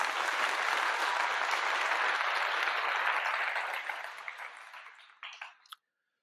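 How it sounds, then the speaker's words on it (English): An audience gives a full round of applause, a thick, steady wash of many hands clapping that thins out over several seconds and ends with a few last scattered claps. "let's go ahead and give her a round of applause"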